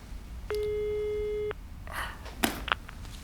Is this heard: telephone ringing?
yes